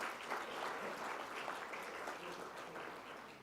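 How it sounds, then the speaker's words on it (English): Audience at a gala dinner breaks into applause, a continuous wash of many hands clapping, fairly faint and distant, steady throughout with no talk over it. "Massive round of applause for that sister over there."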